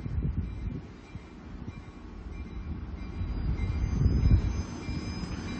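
A North Shore Scenic Railroad train on the Duluth Lakewalk heading back toward its depot, heard as a low rumble of rolling wheels that builds and swells toward the end, from a moderate distance, with no talk.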